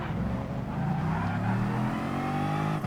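Race cars in GT Sport rev and pull away together at the start of a race at Monza, a dense, loud, continuous roar of layered engine tones rising in pitch.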